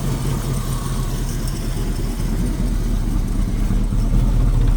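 A 1979 Chevy wrecker truck idling steadily close by, a loud, even rumble with low throb and no revving or voices over it.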